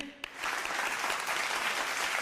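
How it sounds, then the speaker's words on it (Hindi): A studio audience at a televised Ramadan quiz show claps for a team's points, a sustained, even burst of applause from many people after a brief sharp knock at the start. "तालियां होनी चाहिए"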